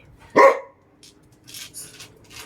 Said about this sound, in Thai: เห่าเขาทำไมล่ะลูก